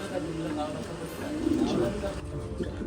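Pigeons cooing at a pigeon farm where Belgian racer pigeons are kept, soft low coos rising and falling under steady talk with a quieter stretch near the end.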